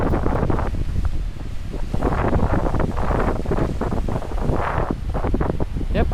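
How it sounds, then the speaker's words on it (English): Strong wind gusting across the microphone on a high mountain trail near cascading falls on the Ouray, Colorado perimeter hike, a steady loud roar with buffeting bursts throughout, no voices. "Windy up here."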